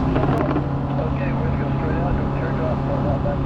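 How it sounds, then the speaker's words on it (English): The twin radial engines of a North American B-25J Mitchell bomber roar loud and steady during the takeoff roll at an airshow, a deep constant drone buffeted by wind noise, with a faint voice underneath. "Panchito on the takeoff roll."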